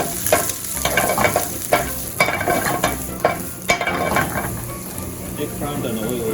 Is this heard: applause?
no